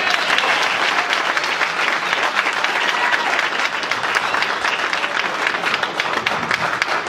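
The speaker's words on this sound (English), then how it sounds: "Let's have another big round of applause for Margie Semler." Dense, steady applause from an audience at a political endorsement event for a former Passaic, New Jersey mayor, sustained at an even loudness from start to finish with no speech over it.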